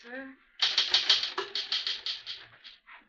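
Typewriter keys struck in a quick, steady run of about a dozen clacks in an old office setting, following a short spoken line from a woman, then continuing alone at moderate loudness.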